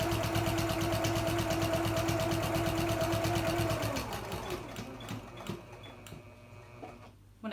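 A sewing machine quilting the back panel of a backpack along a crease runs in a fast, even whir for about four seconds, then stops. Faint clicks and handling noises follow.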